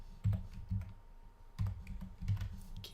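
Keys clacking on a computer keyboard in bursts of quick presses with short pauses between, close and fairly quiet, no voices.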